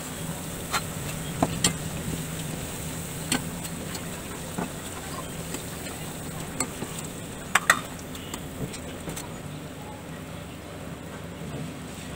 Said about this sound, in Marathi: अशा प्रकारे या सोनेरी रंगावरती आपल्याला वड्या फ्राय करून घ्यायच्या आहेत